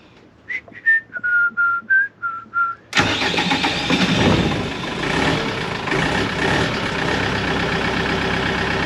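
Someone whistles a short tune, then a Mercedes 609D campervan's diesel engine abruptly cranks and fires, settling into a loud, rough, steady idle close by.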